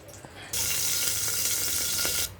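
Green chilli and other ingredients drop into hot oil and burst into a loud, steady sizzle that holds for nearly two seconds before cutting off, with faint kitchen clatter before and after.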